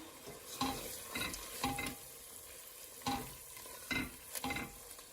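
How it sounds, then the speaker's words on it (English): A spoon stirs thick tomato puree into a pot of dal, making about six distinct scraping, squelching strokes in an uneven rhythm over a soft background sizzle. "And give that a stir."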